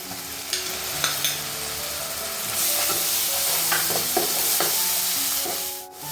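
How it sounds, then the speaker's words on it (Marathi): Ground masala paste (vatan) sizzles steadily in hot oil as it is stir-fried for a Konkan-style val birde curry, with repeated spoon scrapes and clinks against the pan and no talking. "हे वाटण दोन तीन मिनिट चांगलं परतून घ्यायचे आहे"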